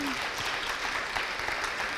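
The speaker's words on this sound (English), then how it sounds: "Round of applause." A keynote audience applauds in a steady, even wash of many hands clapping, filling the whole short stretch with no pause.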